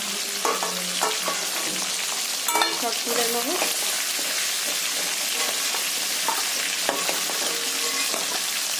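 Pieces of cut fish head frying in hot oil in a pan, a steady loud sizzle throughout with occasional stirring scrapes and a brief spoken remark over it.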